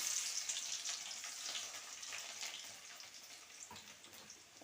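Crushed garlic frying in hot oil with fenugreek seeds and curry leaves, a close, steady hissing sizzle that fades slightly toward the end, with no talk.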